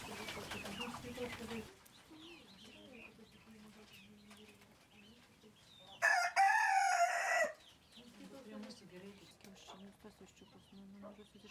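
On a farm, a rooster crows loudly partway through, among clucking hens, ducks, geese and other birds, with voices talking nearby before and after.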